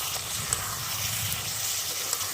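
Pointed gourd curry with fennel and garam masala powder sizzles steadily in a pan while being stirred, a constant close frying hiss with faint scraping and no talking.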